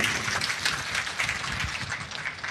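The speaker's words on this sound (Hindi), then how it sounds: "एक बार यहाँ के जितने कार्यकर्ता है उसके लिए जोरदार ताली बजा करके" Crowd at a gathering applauding volunteers, a dense steady burst of clapping throughout, fairly loud and near, with no speech over it.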